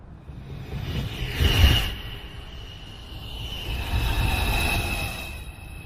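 An automated NYC Subway 2 train pulls into 215th Street station, a loud rolling rumble with squealing wheels and a whooshing swell that peaks, eases, then builds again as the cars roll along the platform.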